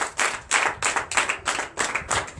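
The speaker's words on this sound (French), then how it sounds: "Donnez l'acclamation à Jésus." A church congregation at a Sunday teaching service claps together in a steady rhythm, with about two strong, close, unison claps per second, each followed by a brief pause.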